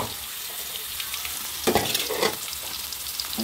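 Onions added whole, not blended, to a hot pan for a home lunch, sizzling and frying steadily, with brief louder bursts of stirring partway through; no one talks.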